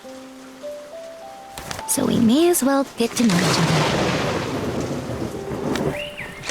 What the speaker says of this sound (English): Now I guess we're stuck here until the rain clears.